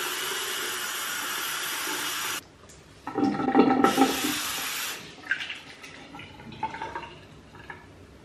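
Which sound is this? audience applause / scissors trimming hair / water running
water running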